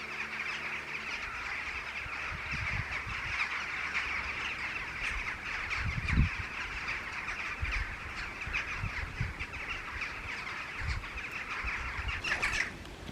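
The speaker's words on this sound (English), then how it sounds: "All the birds!" Crows and other birds call outdoors on a coastal walk in the Yorkshire Dales, steady overlapping caws and chirps close by over a constant wind-like hiss, with a few low thumps.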